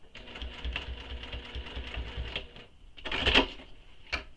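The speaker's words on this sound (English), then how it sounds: "keep pivoting and checking to make sure that you're stitching all the way around" A sewing machine stitches around the opening of a small crossbody bag in close, rapid mechanical bursts, pausing briefly between runs of stitches, with a few louder clicks and handling knocks toward the end.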